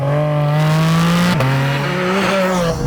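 A Porsche 718 Spyder RS sports car engine drones loudly and steadily, its pitch holding high, briefly dipping near the middle and climbing again, with no talking over it.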